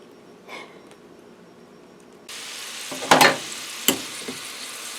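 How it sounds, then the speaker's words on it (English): Potato fries drop into hot oil for a higher-temperature second fry, bursting into loud sizzling and bubbling with a couple of sharp surges, following a quieter stretch of faint kitchen noise. "the second fry, which we're going to do at a higher temperature, is going to crisp them up"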